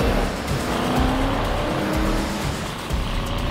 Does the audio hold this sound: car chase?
yes